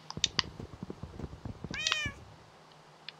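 A cat in the video game Minecraft meows several times in a row, short plaintive cries close up with faint game background sounds, ending in a longer wavering meow.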